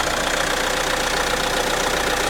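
A Renault 1.6 turbo diesel four-cylinder engine idles after a cold start on a chilly morning, giving a loud, steady, close-up diesel clatter with no talking.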